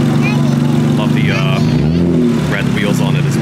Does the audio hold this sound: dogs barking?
no